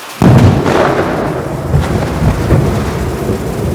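A loud, sudden crack of thunder from a lightning strike near Hoverla mountain, followed by heavy rumbling that rolls on for several seconds, with rain hissing steadily underneath.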